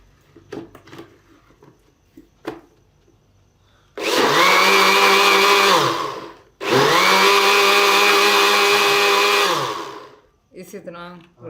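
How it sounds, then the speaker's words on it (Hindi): A juicer machine churning cream into butter runs in two loud, whirring bursts of about two and three seconds, separated by a brief stop, with quiet handling noises before and after. "इसी तरह रुक रुक के मशीन चलानी है आपने, जूसर"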